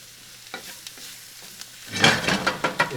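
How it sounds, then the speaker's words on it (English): Bell peppers are stirred into a pan with onions for a keto jambalaya. A few faint scrapes come first, then a louder, steady sizzle begins, broken by repeated spatula strokes up close. "next is going to be your peppers. And then getting that all mixed up."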